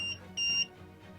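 A faulty emergency light fitting gives two high electronic beeps, the second longer, at moderate volume over a low steady hum, with no one talking.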